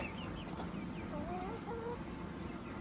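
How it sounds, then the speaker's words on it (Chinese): Hens and chicks in a village farmyard in the early morning make a few soft, wavering clucks and peeps, fairly faint against a constant outdoor background. "大鸡小鸡"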